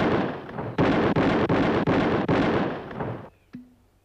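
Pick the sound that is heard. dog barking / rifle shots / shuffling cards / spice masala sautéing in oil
rifle shots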